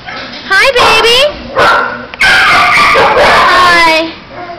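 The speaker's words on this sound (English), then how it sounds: "This is a lab border collie mix." Barking from a Labrador and border collie mix dog at an animal shelter, repeated loud yelping barks and whimpers in bursts, with a person talking nearby between them.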